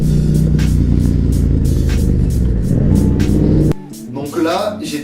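Three Lamborghini Huracan Performante cars roar loudly around a Yamaha MT-07 motorcycle, a dense close engine drone that cuts off abruptly near the end, leaving quieter road noise.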